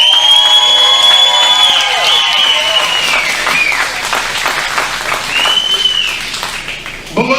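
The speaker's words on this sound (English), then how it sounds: "Let's give another round of applause for all of the wrestlers." A loud crowd at a CWF Uprising professional wrestling event applauds and cheers the wrestlers, a dense wash of clapping with whistles and whoops carrying throughout, easing slightly before a fresh burst at the end.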